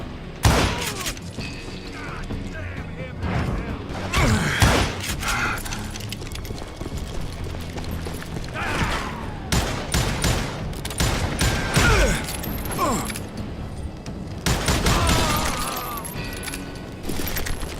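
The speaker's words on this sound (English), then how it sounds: "Who's shooting at us? We're under fire!" Gunfire in the Western shooter video game Call of Juarez Gunslinger, with repeated loud bursts of revolver and rifle shots, booming impacts and ricochets in irregular clusters, mixed with hoofbeat-like clatter and brief shouted voices.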